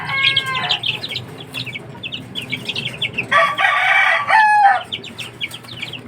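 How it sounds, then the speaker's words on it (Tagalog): Fighting-cock breed chicks under a month old peep in rapid, high chirps, with a louder, harsher burst of calling midway before the soft peeping resumes. "Ayan ang bagong sisiw"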